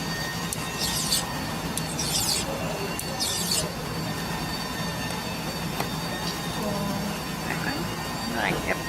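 A spinner bracelet clamped tight and worked with a hand file gives a steady, close rasping scrape throughout, with a few brief high scratchy strokes and voices talking faintly underneath.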